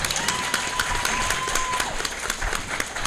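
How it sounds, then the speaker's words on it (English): An audience at a live panel event claps steadily, a dense patter of many hands continuing without pause. "And applause."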